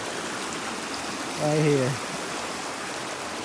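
Creek water flowing steadily over a creek bed, a soft, even wash heard close by, with a short burst of a man's speech in the middle.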